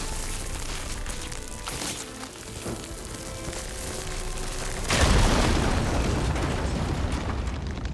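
A red firegleam in the video game Horizon bursts with a sudden deep boom about two-thirds of the way through, then a loud crackling roar lingers after a quieter stretch of game ambience.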